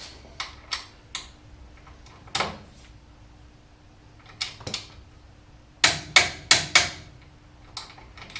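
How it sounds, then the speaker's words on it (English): A torque wrench clicks while tightening brake caliper bolts on a Chevy in a driveway, giving a series of sharp, scattered metallic clicks, several grouped closely together near the end, against a quiet background. "So we're going to go ahead and get these torqued."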